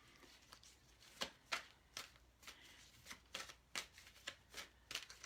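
Oracle cards being shuffled by hand, a quick run of crisp riffling bursts repeating every half second or so, close and fairly quiet, with no talk.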